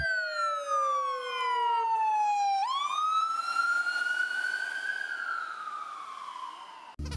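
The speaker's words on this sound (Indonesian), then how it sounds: "yang terakhir teman, ada mobil ambulan." A toy ambulance siren from a children's construction-vehicle toy set wails alone, a clean electronic tone that sweeps down, jumps up and holds, then drifts lower, close and steady before cutting off.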